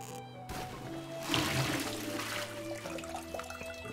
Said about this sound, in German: Hat sich eine Klospülung gerade angehört.